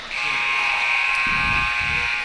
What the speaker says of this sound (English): And just before the buzzer